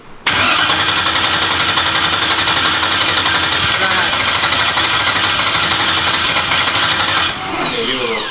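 A freshly rebuilt car engine cranks over and catches within a moment, then roars loudly at high revs for several seconds before the tone drops and settles. It is heard up close and drowns out everything else.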